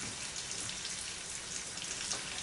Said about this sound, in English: now wash my hand